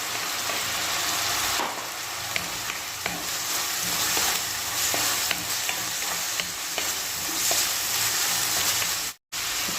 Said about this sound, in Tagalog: ilagay na rin natin yung ating garlic. Sabay na natin